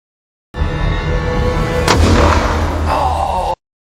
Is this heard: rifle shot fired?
yes